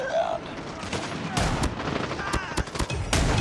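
Rapid bursts of automatic gunfire in a 10v10 Shipment match of Call of Duty Mobile, sharp repeated shots crackling loud and close over game noise, with a voice talking faintly at the start.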